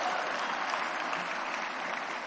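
Audience applause at the NasDem national meeting, a continuous, even wash of many hands clapping in a large hall, steady and fairly close throughout.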